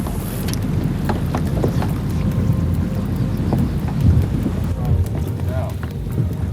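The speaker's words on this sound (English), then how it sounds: "Looks like this wind is just going to be impossible." Strong wind buffets an outdoor shoreline during flounder fishing, a loud, continuous low rumble with gusty roaring across the whole stretch and faint splashy, clattering noises on top.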